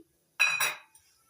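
A metal lid set down over a pot of water with two tomatoes boiling, giving a short double clink of metal on metal, close and fairly loud, then quiet.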